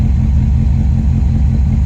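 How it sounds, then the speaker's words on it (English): A Lancia Appia GTE racing car's small V4 four-cylinder engine idles with a steady, loud, low chuffing rumble close by, no voices over it. "a little 4-cylinder engine in here, which is just chuffing along right now"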